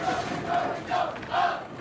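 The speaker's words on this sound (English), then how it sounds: "Get the cheering started early" A crowd in a bowling alley at a boys' state final roars and chants in rhythmic, swelling bursts, about four loud pulses of group cheering.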